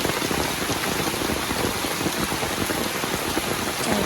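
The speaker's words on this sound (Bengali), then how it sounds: "বৃষ্টিতে আবার আগের মতো অবস্থা বৃষ্টির কারণে বাড়িতে পানি উঠে গেছে" Steady, heavy rain pours down in a village, a dense even patter on surfaces close by with no other sounds.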